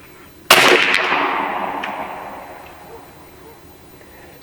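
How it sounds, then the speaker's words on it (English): A single sharp report from a B&W Bin Tac M50 PCP air rifle firing a 247 grain projectile at an outdoor range, loud and close, followed by a long fading echo. "First shot, B&W M50, starting my recording."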